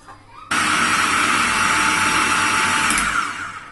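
A kitchen blender whirs loudly and steadily for about three seconds, mixing bread with salt, black pepper and chicken stock, starting abruptly and running up close without talk.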